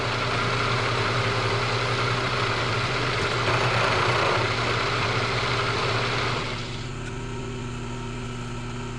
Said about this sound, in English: it's gonna have to be done in the mill.